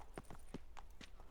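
Hooves of Roach, Geralt's horse in The Witcher 3: Blood and Wine, clip-clopping in a steady uneven trot of about eight clear strikes, close and fairly quiet with no voices.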